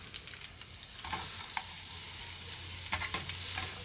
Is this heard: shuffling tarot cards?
no